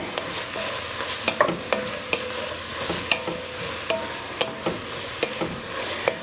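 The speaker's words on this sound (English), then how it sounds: "Get this stirred up." Carnitas stirred in a pot with black pepper, a spoon scraping and clacking in an uneven rhythm over a constant sizzle of frying meat, close up with no voices.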